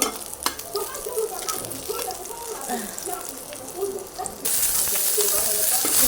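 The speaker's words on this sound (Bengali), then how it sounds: "আর চিংড়ি মাছগুলো ভেজে নিচ্ছি" Steady sizzle of shrimp frying in hot oil, with occasional stirring scrapes, close by, then a brighter burst of hiss near the end.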